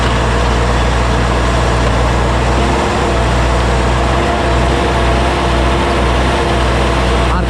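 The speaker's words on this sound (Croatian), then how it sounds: "turira malo da pokaže da ima snage" Tractor engine running a FPM RD 200/1 rotary harrow while preparing dry soil for wheat sowing, a steady loud low drone that swells as the engine is revved, continuous throughout with no pauses.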